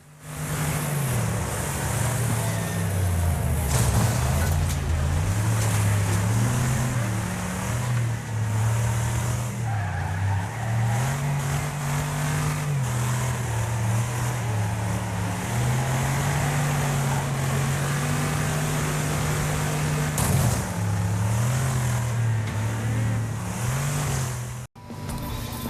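Cars race and crash in the video game Wreckfest: engines roar continuously and shift pitch, tyres squeal, and impacts thud over about twenty-five seconds, ending in a hard cut.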